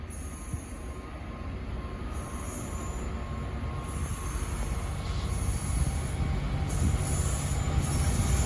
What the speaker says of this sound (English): And passing through now is some freight.